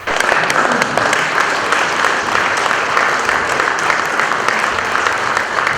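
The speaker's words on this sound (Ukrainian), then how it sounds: "Присутнім же депутати аплодували стоячи." Deputies give a standing ovation in a hall: loud, dense, continuous clapping from many hands that holds steady for several seconds, with no speech over it.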